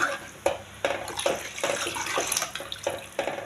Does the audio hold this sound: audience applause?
no